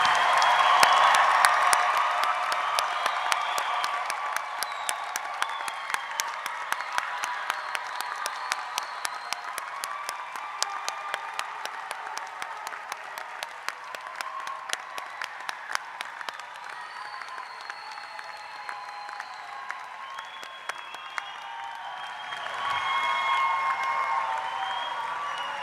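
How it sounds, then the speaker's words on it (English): A commencement audience applauds graduates' families and loved ones, sustained clapping from a large crowd in a hall with scattered cheers and whoops, continuing steadily for over twenty seconds before swelling briefly near the end. "as we applaud your family and loved ones"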